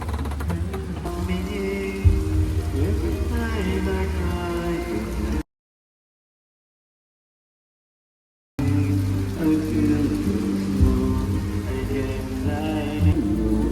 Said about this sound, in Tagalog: mahina pa nga yung ulan na nakita nyo sa video